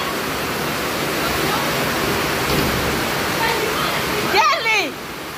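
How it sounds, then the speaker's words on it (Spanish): Water draining out through a small hole in a flooded house after heavy rain: a continuous broad rushing splash that stays steady throughout, with a brief burst of voices near the end. "Miren que de dicha tengo un hoyito aquí, miren, para que salga el agua"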